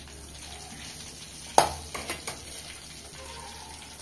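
Fish fingers frying in a pan on low heat, a quiet steady sizzle with one sharp knock of a utensil followed by a couple of lighter taps.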